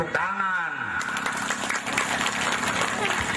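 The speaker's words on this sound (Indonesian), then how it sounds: "Tepuk tangan." An audience at an Indonesian magic show applauds after a trick, a crowd clapping continuously for a few seconds as a voice briefly speaks at the start.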